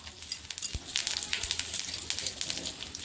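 Cumin seeds sizzling and crackling in hot butter in a pan, a steady close hiss peppered with quick irregular pops and spits.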